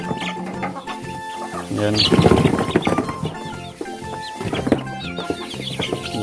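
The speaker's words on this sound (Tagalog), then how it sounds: "Yan, napakaganda dating na mga chicken." Rhode Island Red chickens cluck and chatter continuously in a close, busy flock, with bursts of louder squawking layered together; someone speaks briefly over them.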